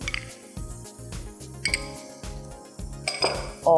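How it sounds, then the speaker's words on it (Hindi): Metal pan set down on a stovetop while cooking rice, heard as a few clanks and clinks of cookware against the burner, close and moderately loud, with light kitchen clatter between hits. "सो उसके लिए यहाँ पैन रखते हैं"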